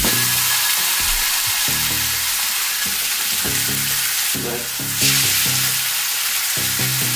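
Burger patties fry in a little vegetable oil in a hot pan, giving a loud, steady sizzle with rhythmic scraping and stirring knocks and a brief surge of hiss partway through, with no talking.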